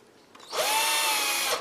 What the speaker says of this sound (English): So let me see if I can go ahead and drill my hole.